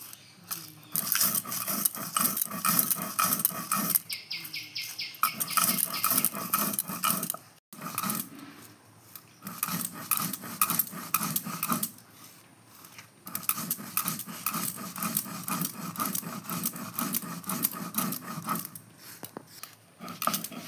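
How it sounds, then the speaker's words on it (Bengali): A grinding stone, a shil-nora, works spices with rough, repeated scraping strokes, loud and close, in bursts broken by short pauses. "ঠিক আছে, এবার মশলাটা আমি বেটে নেব।"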